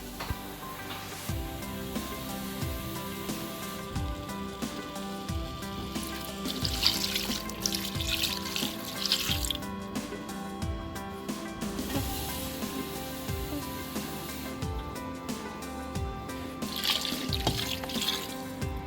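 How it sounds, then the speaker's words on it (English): Tap water running steadily into a pot for goat meat pepper soup, a continuous splashing rush that stays fairly loud throughout with no talk. "So I'm just going to add a little water, because pepper soup needs"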